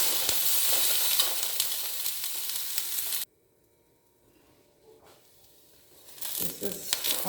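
Loud sizzling and stirring of spices, green chilli, garlic and ginger in a hot pan, cutting out abruptly to near silence, then soft frying returns and builds again toward the end.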